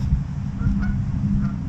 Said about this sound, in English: I get attacked by a fucking goose.